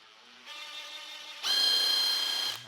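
A cordless impact driver fitted with a DEWALT extension bar drives a screw in two bursts, a lighter whirring run followed by a louder, harder high-pitched motor whine that cuts off abruptly, heard alone and close.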